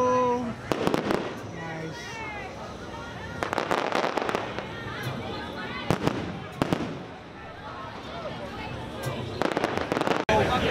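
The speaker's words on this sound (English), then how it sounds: "so the fireworks are going off as you can see" Fireworks bursting at Disneyland on the opening day of Star Wars Galaxy's Edge, a series of sharp booms and crackles, some close together, with crowd noise and people talking between the bursts.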